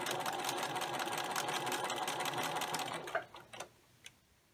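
A sewing machine stitches garden apron fabric with a close, steady mechanical whir for about three seconds, then stops, leaving a few light clicks and handling taps.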